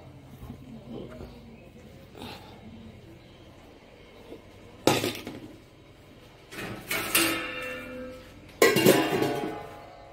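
A pot and dishes clatter in a home kitchen as fish is covered, with several sharp metallic clanks and scrapes arriving in separate bursts amid quieter handling noise and someone talking.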